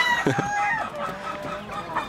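A rooster on a poultry farm gives a single crow, close and fairly loud, with some faint background noise.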